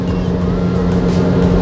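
Honda car fitted with a large exhaust and full sound deadening, its engine idling in a steady, close, droning rumble that holds at an even level throughout.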